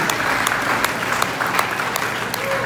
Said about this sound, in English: Can we clap our hands to the Lord?